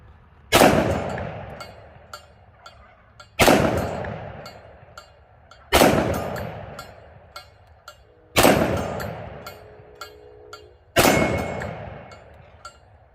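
Five heavy, evenly spaced pistol shots from a Smith & Wesson M&P 10mm ring out at an outdoor range, each a sharp loud crack with a decaying echo, separated by quiet gaps with faint clinks.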